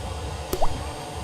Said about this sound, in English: Some water starts dropping there.